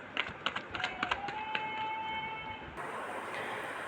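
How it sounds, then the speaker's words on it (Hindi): Tarot cards are shuffled by hand, making a quick sequence of soft flicking taps followed by a steadier papery rustle, close and fairly quiet, with no speech. "तो मैं आपके कार्ड्स यहाँ पे शफल कर रही हूँ"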